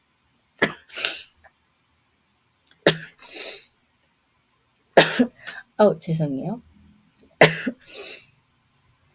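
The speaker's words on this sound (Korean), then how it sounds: "영상만 찍으면 이상하게 저는 재채기를 해요" Someone sneezes several times in a row, each sharp close burst separated by pauses, with a person briefly speaking between them.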